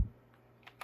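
A few light key clicks from an Apple iMac G4 keyboard, soft and close, with brief gaps between presses over a quiet background.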